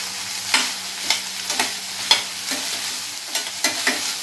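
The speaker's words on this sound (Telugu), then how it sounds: "ఈ మొలకలు వేసాక ఒక టూ మినిట్స్ ఇలా వేడి మీద ఇలా తిప్పుతూ ఇలా అవి కూడా కొంచెం ఫ్రై" Mung bean sprouts frying in a pan over heat, with a continuous sizzle and regular stirring scrapes about every half second, close up and free of talk.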